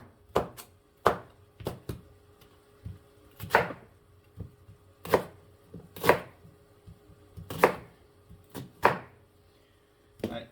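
Crisp, papery crackles and sharp snaps from an unwashed onion being peeled by hand, arriving in irregular bursts of a dozen or so close, dry tearing sounds over a quiet background.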